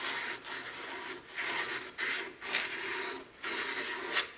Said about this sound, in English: Just taking some emery, real fine emery. And I'm just cleaning up the edges.